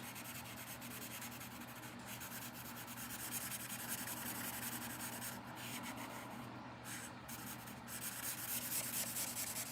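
A chisel nib marker fills in a background on paper around small drawn feet, producing continuous close, soft rubbing and scratching strokes in a steady back-and-forth rhythm with no talking.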